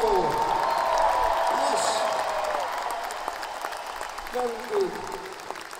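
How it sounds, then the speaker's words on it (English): Big outdoor concert crowd applauding at an amphitheater during a rock show, broad sustained clapping and cheering that swells, then slowly fades while someone speaks briefly over it. "please give a big round of applause for everyone working here tonight and making this show possible"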